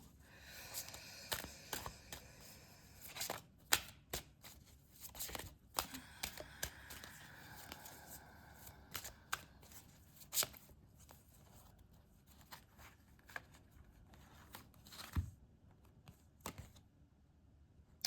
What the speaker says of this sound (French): je vais vous tirer encore une carte de mon jeu Dorine Virtue